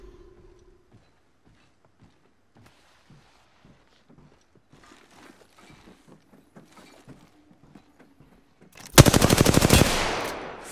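Gunfire in the Apex Legends video game: after quiet footsteps and movement, a loud rapid automatic burst erupts near the end, dozens of closely spaced shots ringing out up close.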